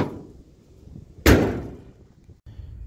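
A single solid slam as the trunk lid of a 1972 Dodge Dart is shut, a close heavy thud with a brief ringing decay, preceded and followed by faint rustling outdoor background.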